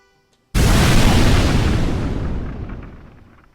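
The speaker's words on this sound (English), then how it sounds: "just to show the kind of variety we can get out of an explosion sound effect" A designed explosion built from white noise, rubbed balloon and an engine rev bursts in suddenly after a short silence, a loud, full rumbling blast that slowly decays and fades over about three seconds.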